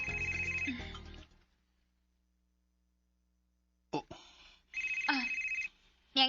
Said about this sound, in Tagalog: among cellphone, sir, ah.